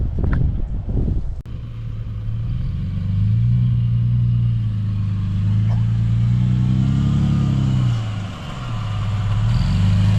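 A 4x4 engine labours up soft sand on Klein Tafelberg, a steady loud drone that rises and falls in pitch as the vehicle climbs around a bend, with a brief clatter at the start.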